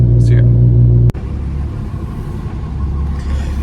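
A Lamborghini engine rumbles while driving: a low humming drone first, then a dense, loud roar of road and engine noise that fills the rest of the moment.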